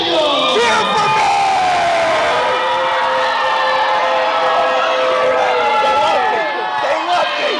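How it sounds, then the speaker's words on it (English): A pro wrestling event crowd cheering, shouting and whooping loudly and continuously throughout, with voices calling out over the din. "Cheer for me!"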